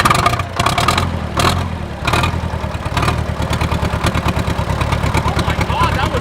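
Old tractor engine starting after sitting unused, a few uneven bursts of cranking and catching, then settling into a loud, rapid, steady idle chug close by.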